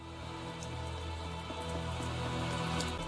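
Steady rain falls on a rainy night in the video game Tales of Zestiria, a dense even patter with a low game ambience droning beneath and no voices.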